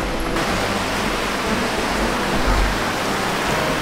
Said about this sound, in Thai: แล้วเขาก็มีน้ำตกอะไรแบบนี้ด้วย